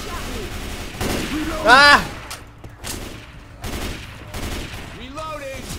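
Gunfire in the video game Left 4 Dead 2 at the mall, with bursts of shots rattling through the mix under excited shouting from players.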